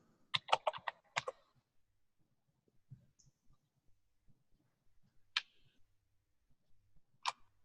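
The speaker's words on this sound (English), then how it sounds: "I'm typing these in the chat right now." Quick bursts of keyboard typing, a cluster of rapid key clicks followed by sparse, isolated taps spaced seconds apart in a quiet room.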